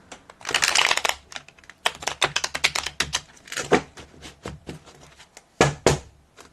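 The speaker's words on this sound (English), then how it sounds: "Let's just give it a big girl shuffle." Tarot cards riffle and slap together in a long opening burst, then a series of quick, crisp flicks and taps as the deck is shuffled repeatedly.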